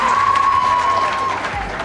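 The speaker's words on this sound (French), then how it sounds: "on applaudit" Audience at a school quiz competition clapping, a brief burst of dense crowd applause with a voice and a sustained tone running underneath.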